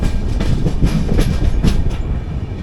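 The 22208 Trivandrum–Chennai AC Superfast train runs through a station, heard from on board as a loud, continuous rumble with a rhythmic clickety-clack of wheels over rail joints.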